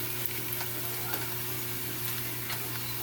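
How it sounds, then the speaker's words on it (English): A stew is stirred in a pot after a condiment is added, producing a soft continuous simmering sizzle with faint scraping stir sounds close by, no voices. "add that, stir it together."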